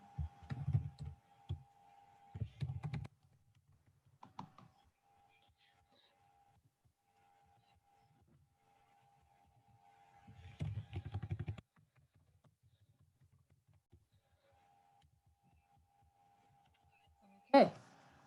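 Fingers typing on a computer keyboard in a quiet room, rapid key clatter in two main bursts with a few scattered taps between, over a thin steady electronic hum.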